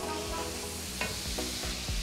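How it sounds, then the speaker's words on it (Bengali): Spice masala with Kashmiri chili powder, garam masala and roasted cumin sautéing in a pan gives a low, steady sizzle, broken by a few soft scraping stirs. "আমি এই মশলাটাকে কষাবো"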